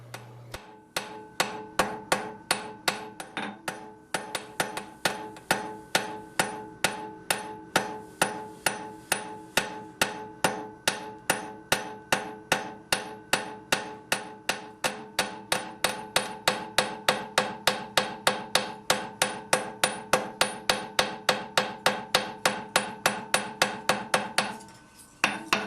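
Hammer blows ring on hot iron while forging the bean at the bottom of a Suffolk latch, a long run of sharp, evenly paced metallic strikes with occasional pauses, loud and close with no talking.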